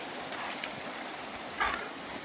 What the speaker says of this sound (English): The dogs are having fun.